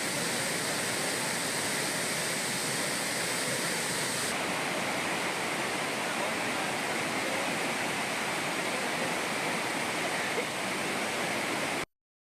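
Floodwater roars down the Meghamalai waterfall after heavy rain, a loud, steady, unbroken rush of churning water that holds at one level throughout before cutting off abruptly.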